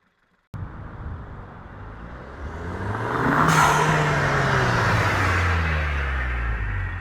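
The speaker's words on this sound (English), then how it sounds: "I'll even throw in some drive-by noises just so you can hear them as well" Cars drive past in a car park: a sharp onset, then a rising broadband engine and tyre roar with a falling pitch sweep as one vehicle passes close, followed by steady loud traffic-like rumble, with no talking.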